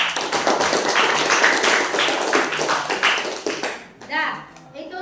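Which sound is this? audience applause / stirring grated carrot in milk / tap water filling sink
audience applause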